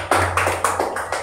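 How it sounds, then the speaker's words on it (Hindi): Children clapping in unison in a classroom, a steady run of about five sharp, loud claps in even rhythm. "ताली बजा दीजिए।"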